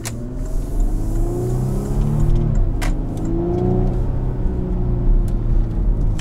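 A 2018 Porsche Cayenne GTS in sport plus mode accelerates hard from inside the cabin, engine rising in pitch through the revs, a brief shift break, then climbing again under a steady deep rumble.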